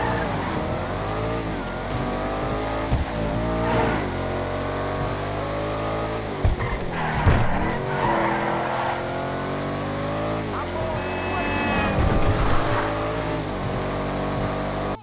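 A Gallivanter Baller STD car in GTA Online drives steadily for about fifteen seconds, its loud engine rising and falling through gear changes and revs, with brief tire squeals, heard alone.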